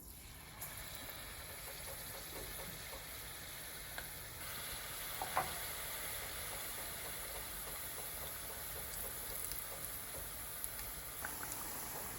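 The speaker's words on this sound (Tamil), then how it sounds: "நான் இந்த உருண்டையில் அந்த மாவில் துவைச்சிட்டு பொறிச்செடுக்க போகிறேன்" Balls of mung bean susiyam dipped in batter sizzle steadily in hot oil, a continuous close crackling hiss with occasional sharper pops and stirring clinks, no talking over it.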